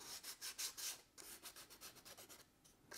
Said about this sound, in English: be aware of what direction you're sanding in, because you can affect how the streaks look